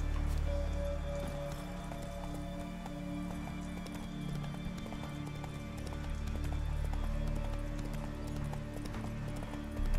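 Hooves of Roach, the horse in The Witcher 3: Wild Hunt, clip-clop in a steady rhythm for the whole stretch, set over a constant ambient game background with faint intermittent tones.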